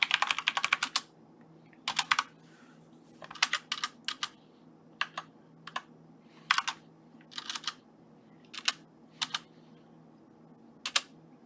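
Bursts of fast typing on a computer keyboard, short rattling runs of keystrokes separated by brief pauses, close and fairly quiet over a low steady room hum.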